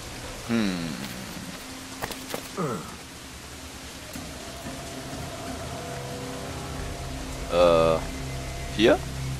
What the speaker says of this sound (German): Natürlich fängt es an zu regnen.